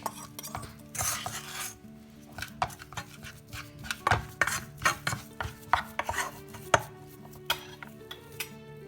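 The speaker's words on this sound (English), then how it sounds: "Add to the pan and mix well." Egg yolks being mixed in a pan during snack preparation, with a rapid series of scraping clicks and clinks of a utensil against the pan, fairly close and irregular, with no talking.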